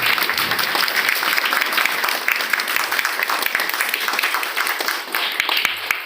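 An audience applauds in a dense, sustained burst of many hands clapping together, steady and close for the full stretch without letting up.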